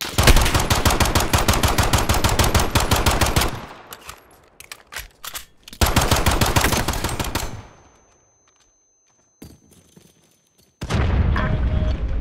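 Gunfire in a Call of Duty: Modern Warfare private match gunfight at Verdansk Stadium: loud sustained automatic bursts, a pause with scattered shots, another long volley, then near-silence before firing resumes.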